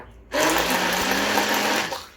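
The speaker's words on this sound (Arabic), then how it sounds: "كنبقى نطحنها بهذه الطريقه، نكمل الطحن ونرجع لكم" A blender grinding flaxseed with yogurt kicks on abruptly and whirs steadily at close range, a loud grinding drone that cuts off after about two seconds.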